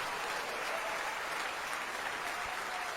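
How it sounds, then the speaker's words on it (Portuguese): Steady applause from a church congregation fills the space, many hands clapping in an even wash without pause. "vamos aplaudir mais, igreja."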